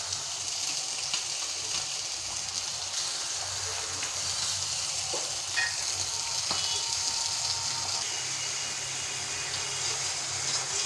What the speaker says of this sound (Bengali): মশলাটা আমি ভালোভাবে কষাই নিচ্ছি।